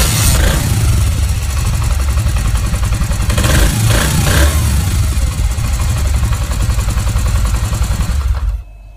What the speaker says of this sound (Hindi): अब मैं करता हूँ बाइक को स्टार्ट, देखता हूँ कि मिसिंग तो नहीं कर रही।